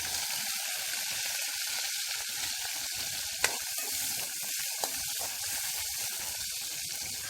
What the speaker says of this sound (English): So I'm going to add in my garlic, my thyme, some scallion and pepper.